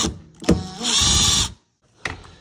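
A T20 torx bit tightens a screw on a Miele dishwasher door: a short, fairly quiet whir of a powered driver running for about half a second, framed by a few small clicks and knocks.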